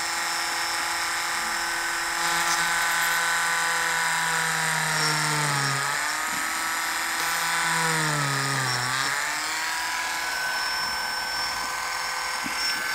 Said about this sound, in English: I'm going to drill out the back end of one of these castings